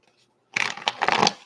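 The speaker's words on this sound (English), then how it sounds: "Let me shuffle this deck" A quick, close riffle of a deck of cards, a crisp papery fluttering burst lasting about a second after brief quiet.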